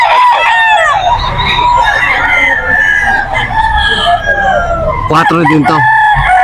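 A bullstag rooster crows loudly and close at a busy pet market in Bocaue, its drawn-out call ringing over the crowd while people talk nearby, with a brief burst of other bird noise near the end.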